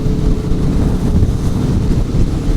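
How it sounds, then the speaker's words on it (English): Steady, loud wind buffeting a helmet microphone on a 2022 Aprilia Tuono V4 Factory on a highway on-ramp, a constant low roar and rumble with no letup and no voices. "Oh, it's windy on this on ramp."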